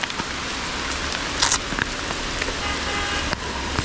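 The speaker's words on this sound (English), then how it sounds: "So it has started raining on the way back." Monsoon rain falls steadily on a mountain road near Mirik, a dense hiss of drops with a few sharper taps and brief bumps, continuing throughout with no voices.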